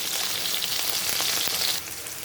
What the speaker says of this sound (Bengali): দেখো মাছের এক পিঠ ভাজা হয়ে গেছে, আর এক পিঠ ভাজার জন্য আমি উল্টে দিয়েছি।